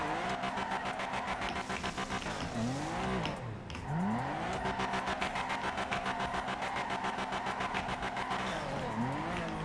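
Car drifting with the handbrake in a video game: a steady, loud engine drone runs throughout, and sweeping tire squeals rise and fall around the middle and again near the end.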